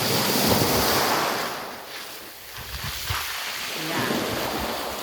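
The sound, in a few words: waves at Kolbano beach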